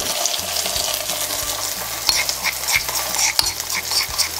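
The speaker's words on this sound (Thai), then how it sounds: "เอาน้ำพริกไปผัดค่ะ" Northern Thai nam prik ong chili paste stir-fried in a hot pan, sizzling steadily up close with repeated stirring and scraping clicks of a utensil against the pan, no voices.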